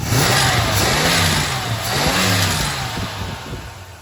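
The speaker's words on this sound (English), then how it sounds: "the noise of the exhaust bouncing off the frame or whatever is obnoxious" A car engine with a Thermoquad carburetor revs up and down repeatedly, its exhaust rasping loudly and close, bouncing off the frame, the pitch rising and falling in swells.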